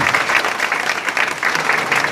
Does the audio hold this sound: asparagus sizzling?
no